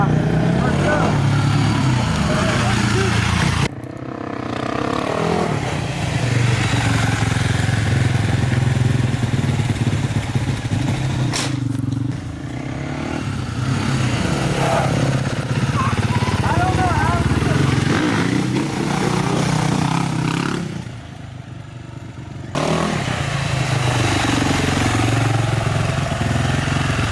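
A dirt bike engine drones loud and close during street riding with nose wheelies, holding steady with brief dips where the throttle drops. Voices talk over it.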